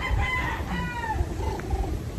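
On a hillside poultry farm raising hens, a rooster crows loudly with a drawn-out, wavering call, while chickens cluck softly around it against a steady background hum.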